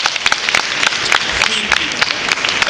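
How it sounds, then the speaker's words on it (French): Applause from an audience at an environmental business award ceremony, a steady dense clatter of many hands clapping close by and filling the whole stretch. "Donc on va applaudir de l'association Terre à venir."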